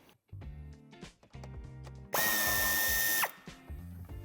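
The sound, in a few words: power tool removing bumper corner screw on Audi A3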